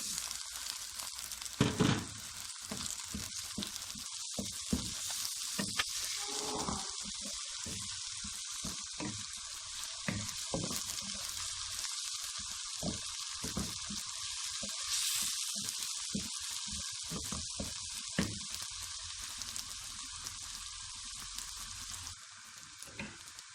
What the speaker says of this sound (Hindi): प्याज ब्राउन हो चुके हैं। अब लहसुन, अदरक, सब्ज़ मिर्ची डालें।